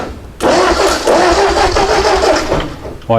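A Ford 8N tractor engine cranks and catches, a loud, close rumbling start that holds steady for a few seconds, then briefly falters as a new crank begins at the end, with no talk.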